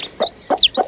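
Chickens cluck near freshly hatching chicks, three short close clucks spaced evenly with faint high chirps between them.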